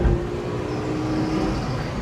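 A Mazda MX-5 NB facelift SG edition with the 1.8 litre engine drives on the road, giving a steady, close engine drone with road noise that holds at an even level throughout.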